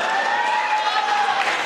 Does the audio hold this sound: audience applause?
yes